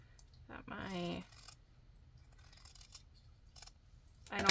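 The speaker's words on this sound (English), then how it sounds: "I'm gonna trim this just a touch" Scissors snip through fabric while trimming a sewn fabric-corner bookmark, a few quiet crisp cuts in an otherwise hushed room, with one brighter snip at the end.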